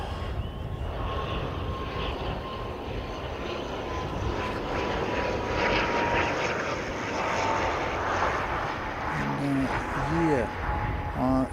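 A Qantas airliner flies past as a steady broad engine roar at moderate distance, holding for the whole stretch, with people talking over it.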